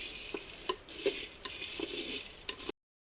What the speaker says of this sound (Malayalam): അടുപ്പ് വെച്ച് കാപ്പിക്കുരി വറുത്തെടുക്കാം